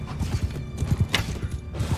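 Horses gallop in the video game Mount and Blade II Bannerlord, a dense, rapid clip-clop of many hooves close by with a brief metallic clash in the middle and no talk.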